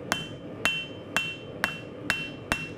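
Hammer blows on hot steel while forging a knife blade in a studio: six sharp, ringing metallic strikes in a steady, moderately paced rhythm, close and clear, with no talking.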